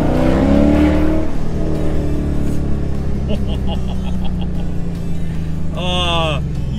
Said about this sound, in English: that 5-litre V8 note is just soothing to the soul.